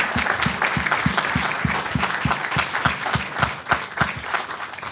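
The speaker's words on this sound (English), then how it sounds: "let's give our panelists a round of applause." Audience applause for panelists after a discussion on artificial intelligence and accessibility, a dense, even round of clapping from a room of listeners, with one nearby pair of hands beating a clear regular rhythm throughout.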